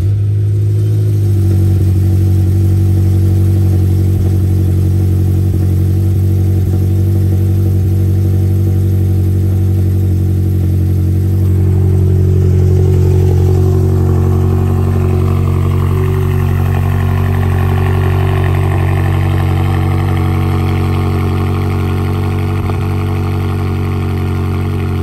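A BMW M5 F10 in rough condition idles with a deep steady hum. Then the revs climb and rise sharply before settling back down, all loud and close.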